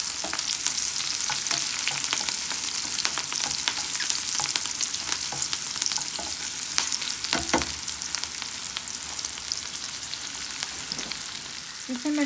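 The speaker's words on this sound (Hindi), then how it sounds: "इसमें मैंने धनिया, हरी मिर्च और प्याज का बघार बनाया" Coriander, green chili and onion sizzle steadily in hot oil as an Indian dal tempering, a dense continuous crackle with scattered pops and occasional stirring scrapes, close up and with no voices throughout.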